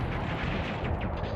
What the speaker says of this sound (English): So many explosions!